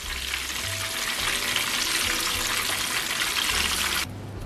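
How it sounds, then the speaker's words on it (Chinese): Mushrooms deep fry in hot oil with a loud, dense, steady sizzle and crackle that runs throughout and softens near the end. "一面炸好后，给它翻面。"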